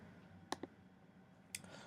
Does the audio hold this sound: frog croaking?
no